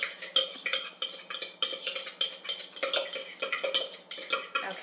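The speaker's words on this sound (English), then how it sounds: "get it all stirred around, get it all mixed up" A dry mixture of flour, cinnamon, salt and nutmeg is stirred briskly in a bowl. Rapid rhythmic scraping and ticking of a utensil runs close and continuous, with no voice.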